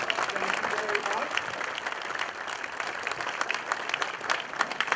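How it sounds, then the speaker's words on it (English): An audience claps for the grand opening of a fire station, with brisk, continuous applause at a steady level and some voices faintly mixed into the crowd noise. "So we give them a round of applause."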